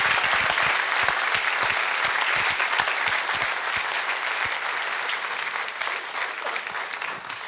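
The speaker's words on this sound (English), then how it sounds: "If we could all give him a round of applause." Sustained audience applause closes a keynote talk on superintelligent machines, a dense, even wash of many hands clapping that holds steady and tapers slightly, with a few louder individual claps near the start.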